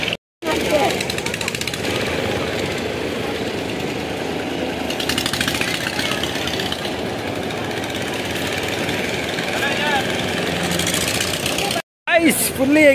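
A motorboat engine on the Narmada river at Omkareshwar gives a loud, steady, rough drone that runs through nearly the whole stretch, with two brief dropouts, one near the start and one near the end.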